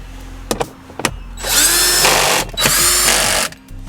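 A power tool drives two bolts back in on a 2017-or-later Ford SuperDuty during a cabin air filter replacement, giving two loud whirring bursts preceded by a few sharp clicks, close up.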